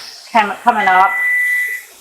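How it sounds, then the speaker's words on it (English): A kitchen timer goes off during pressure canning of garden carrots: a couple of short electronic beeps, then a steady high buzzing tone that holds for under a second before cutting off, close and fairly loud. "our timer has now gone off"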